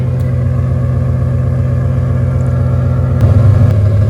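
A car engine idles with a steady, deep exhaust rumble through an open exhaust cutout up close, then swells briefly louder near the end.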